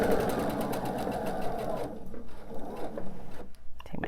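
A sewing machine runs steadily across a quilt top for about two seconds, then slows to softer, intermittent stitching with light fabric handling.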